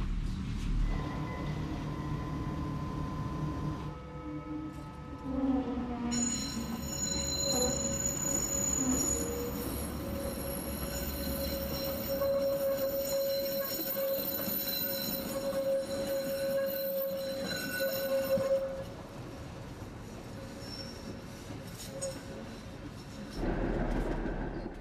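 Brussels tram motor car 7777 runs on line 44 along its own dedicated track through the Soignes forest, its motor rumbling steadily with long squealing wheel tones and occasional rail clatter throughout.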